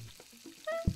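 A hot dog sizzles on a grill in the cooking game Plate Friends 2, with a brief frying hiss, a few soft game chimes, and a short thump near the end, all without any talking.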